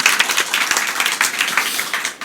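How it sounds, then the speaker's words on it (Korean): Congregation applause at a special church revival gathering, a brisk burst of many hands clapping close and loud, dense and even throughout. "다시 한번 제가 박수 한번 이렇게 드리고 싶습니다"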